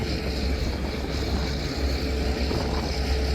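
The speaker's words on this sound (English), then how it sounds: "started the engine up" An engine driving an irrigation pump for field sprinklers runs with a loud, steady, rumbling drone that holds even throughout, with no voices.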